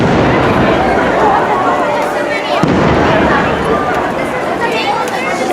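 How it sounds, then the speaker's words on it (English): Fireworks shot off around the castle and behind Fantasyland at Walt Disney World's Magic Kingdom during Disney After Hours, a steady rumble of percussive bangs heard from a distance beneath continuous crowd chatter. "You really hear the percussion bangs of the fireworks from this location."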